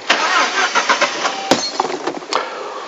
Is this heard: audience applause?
no